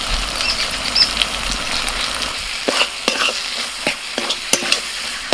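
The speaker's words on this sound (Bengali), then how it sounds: "মশলার সাথে চিকেনটাকে প্রায় আমি দশ মিনিট মতো কষিয়ে নিয়েছি" Chicken sautéing with spices in a pan, a steady crackling sizzle under sharp scrapes of a spoon stirring against the metal, close and moderately loud with no talk.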